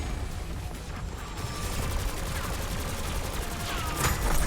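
Fang LMG fired in Black Ops 6 Zombies at the Sentinel Artifact boss, a rapid sustained burst of automatic gunfire that swells slightly louder toward the end.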